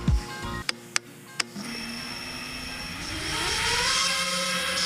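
A small FPV drone with T-Motor F60 III 2750KV motors throttles up, a few sharp clicks giving way to a rising, high-pitched motor whine that swells and holds loud and close.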